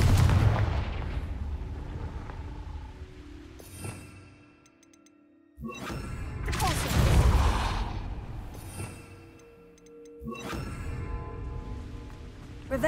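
Blasts from the Confringo fire curse spell in the Hogwarts Legacy video game, as three loud booming bursts with crackling, rumbling tails that die away between hits, heard over game ambience.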